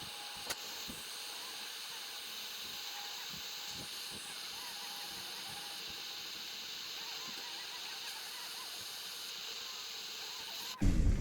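A torch roars with a steady, broad hiss while heating bolts on a 1957 Volkswagen Beetle during restoration. The sound holds constant and close, with faint clanks underneath and a sharp knock at the very end.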